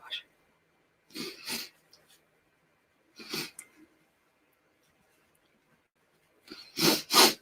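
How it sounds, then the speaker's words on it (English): A person sneezes several times, sharp bursts separated by pauses of quiet breathing, close and fairly loud, with no talking in between. "Now that I've sneezed, my nose is like"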